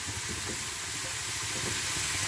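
Raw onions hit hot oil with minced meat in a pan for keema, giving a dense, steady, close sizzle with a constant hiss and no talk.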